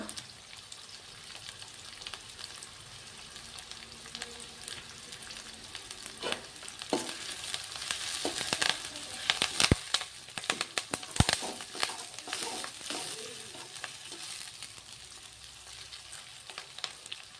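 Onions and curry leaves fry in hot oil in a pan, a steady crackling sizzle that swells into louder popping and spattering bursts toward the middle, with no talking.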